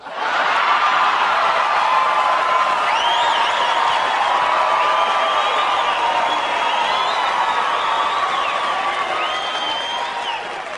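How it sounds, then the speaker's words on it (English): A comedy show audience in El Paso, Texas claps and laughs in one sustained wave of applause mixed with chuckles and whoops. The crowd noise stays full and even, then tapers slightly toward the end. "you guys are clapping and you're laughing"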